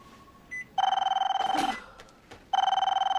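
A mobile phone rings with a loud electronic ringtone in two bursts, a short soft chime just before the first and a brief gap between them; no one speaks.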